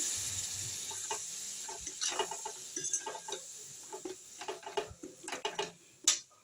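Vetki fish bone curry with ginger paste and a splash of water being stirred in a pan, giving irregular scraping clicks and taps over a soft, steady sizzle.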